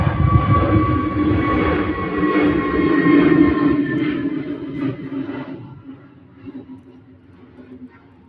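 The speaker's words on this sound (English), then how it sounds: "Lovely, smooth, like butter takeoff, that." A jet aircraft takes off at Manchester Airport, a loud broad engine roar at first that steadily fades as the plane climbs away.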